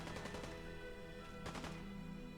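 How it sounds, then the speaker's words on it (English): Laser gunfire in the video game Fallout 4: rapid bursts of crackling shots, with a sharper cluster midway, heard faintly under a dense steady game background. "Someone's shooting with lasers."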